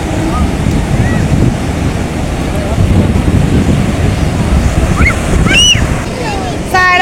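Sea surf at the beach at Cox's Bazar rumbles as a loud, steady wash buffeted by wind on the microphone, with faint voices and a few high calls near the end.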